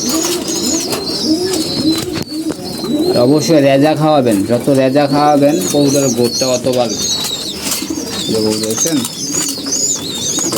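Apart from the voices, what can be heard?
pigeons cooing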